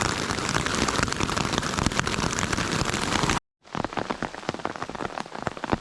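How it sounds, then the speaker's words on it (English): Dense rain and hail patter hard and steadily on a tent, briefly cutting out before resuming slightly softer. "It just started raining a little."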